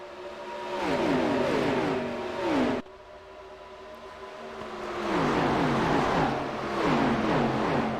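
Sim race cars in a racing video game at the Atlanta oval roar past one after another, several engines revving and sweeping by loudly, then a second wave of cars of the field thunders through without any talk.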